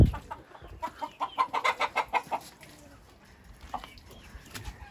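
A hen in a coop clucks in a quick rhythmic run of about eight notes, close and fairly loud, then trails off into quieter farmyard sounds.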